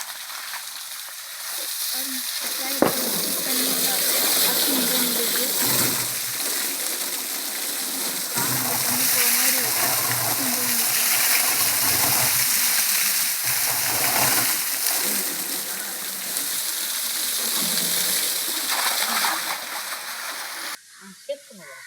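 Water sprays and splashes steadily against a tractor, a continuous hissing wash with voices talking faintly in the background.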